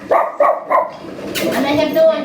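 Three quick barks from dogs in a row, followed by a higher yelping and whining sound, fairly close.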